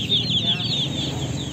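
Young chicks on a small island farm in Samal, Philippines, peep in loud, rapid, high chirps, several overlapping calls close by over a low background murmur.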